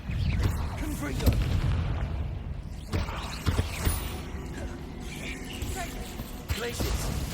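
Confringo spell blasts in the Hogwarts Legacy video game: several booming impacts with crackling bursts scattered across a busy battle, under a speaking voice.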